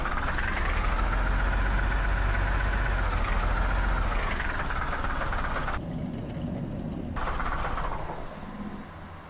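Idling diesel engine of an Autosan H9-21 bus in the OMSI bus simulator, a steady low rumbling drone that runs continuously, dips briefly, then softens toward the end with no talk.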